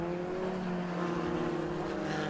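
Formula Ford 1600 race cars speed around the wet Knockhill circuit, a steady droning engine note from a distance with a faint wash of tyre spray behind it.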